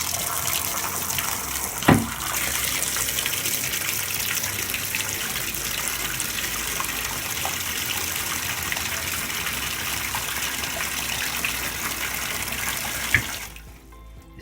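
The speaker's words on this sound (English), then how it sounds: "See if it's draining. Yeah, it's draining." Continuous gushing water runs and drains steadily in a tub in an old 1980s house, with a couple of brief knocks near the start and end before it fades.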